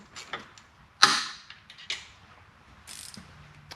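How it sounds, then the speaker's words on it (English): A ratchet wrench works on the rocker box of a 2004 Harley-Davidson Road King Twin Cam, giving sharp metallic clicks and clanks in irregular bursts, close by, with quiet gaps between. "A good set of ratchet wrenches are a must for working on a lot of different stuff on a Harley"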